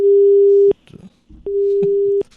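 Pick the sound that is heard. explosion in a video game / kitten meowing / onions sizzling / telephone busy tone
telephone busy tone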